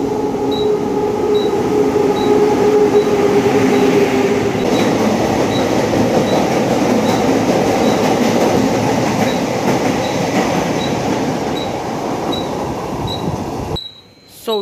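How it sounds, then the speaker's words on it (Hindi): A fast train thunders through a railway platform at Palghar station in the early morning, a loud continuous roar with rhythmic wheel clatter and a repeating high tone, fading near the end. "एक तेज गाड़ी जाने वाली है, कोई यात्री रेलवे लाइन पार ना करे।"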